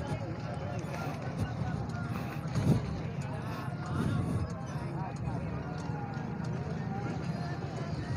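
Horses' hooves clip-clop at an animal market in Ameen Pur, a few scattered hoof knocks heard under nearby voices and general crowd noise.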